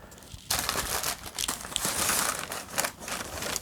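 White tissue paper crinkling inside a sneaker box holding Nike Air Jordan 1 Pollen shoes, a continuous close rustle with sharper crackly bursts, fairly quiet and without talking.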